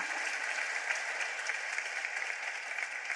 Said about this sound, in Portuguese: Vamos dar um aplauso ao Senhor por isso.